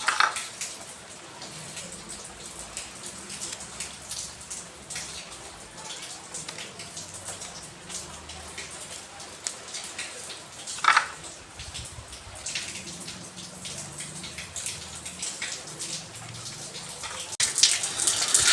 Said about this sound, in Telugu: సో ఫ్రెండ్స్ వర్షం అయితే బాగా వస్తుంది చాలా కూల్గా ఉంది